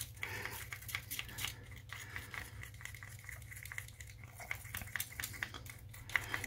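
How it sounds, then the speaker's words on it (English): A stirring stick is worked quickly and thoroughly through a mixture, giving faint, repeated scraping and clinking strokes over a steady low hum. "So quickly stir this and we don't get long."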